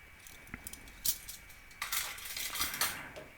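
Metal spoons clink and jangle together after washing in a Toshiba DW-08T1 countertop dishwasher, several bright scattered clatters close and fairly soft, with no talk.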